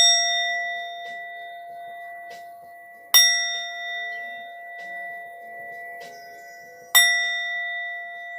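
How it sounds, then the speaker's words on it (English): A clear chime struck to close a session, ringing out in a few sharp strikes with long sustained tones that decay slowly between them in an otherwise quiet room. "I'll go ahead and chime us out,"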